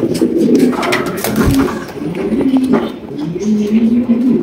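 A pair of jet-black beauty pigeons coo in low, throaty rolling phrases, repeated several times close by, with faint background chatter and scuffling.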